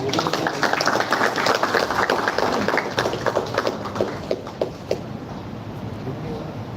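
Audience at a college event applauding a guest, a burst of scattered clapping that thins out and fades into room noise.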